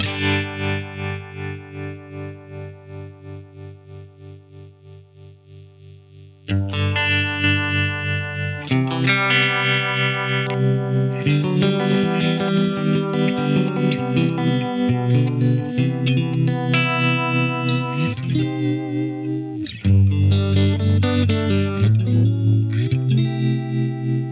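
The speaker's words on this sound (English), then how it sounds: "let's have a listen to the tremolo" Electric guitar through a Line 6 Helix tremolo effect, playing chords and melody with a pulsing, wavering sound, starting softly then getting louder and fuller with a steady throbbing rhythm.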